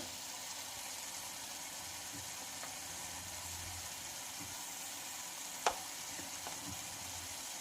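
Radish chutney sizzling in a pan as red chilli powder, turmeric, salt, coriander-cumin powder and garam masala are mixed in, a steady soft frying hiss with a few faint scrapes and one sharp clink.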